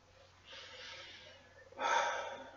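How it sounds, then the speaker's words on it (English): Slow, deep breathing exercise heard close up: a long soft breath followed by a stronger, airy exhale, with no talk. "you can take a cleansing breath"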